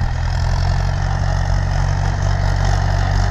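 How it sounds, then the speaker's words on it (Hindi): An old Mahindra 575 DI tractor pulling a side-mounted chisel plow runs with a steady, loud diesel drone, its low engine hum constant and close throughout with no voices over it. "इससे देखिए भाइयों ट्रैक्टर आ रहा है"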